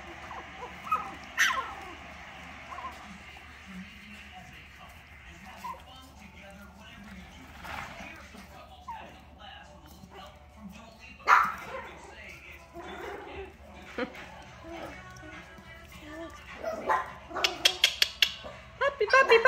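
Four-week-old puppies whimper and yip in scattered bursts, with sharper barks near the end, close by and under occasional human talk and cooing.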